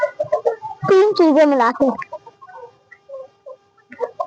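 Desi village chickens and roosters clucking in a loud, close run of squawks, with someone talking over and around them.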